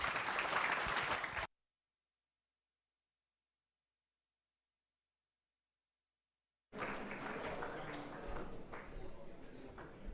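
Audience applause at a football netball league awards night for the 2024 Chandler Medal, heard briefly at the start, then cutting to silence for several seconds before a sustained, dense round of clapping returns and continues steadily.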